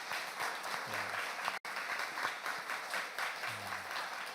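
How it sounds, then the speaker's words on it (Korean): A church congregation applauds steadily for several seconds, dense clapping filling a large room, briefly cutting out once before continuing. "우리 그런 주님의 마음으로 한번 박수로 격려 한번 했으면 좋겠습니다"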